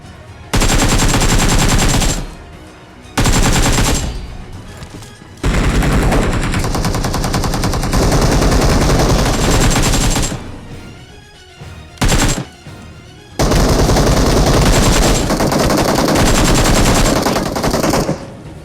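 Automatic gunfire in the mobile battle royale game Battlegrounds Mobile India comes in long, loud sustained bursts separated by short pauses, with no talking over it.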